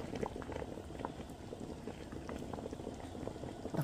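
A pot of beef shank nilaga broth with onion at a rolling boil, continuous faint bubbling and gurgling close by with no talk.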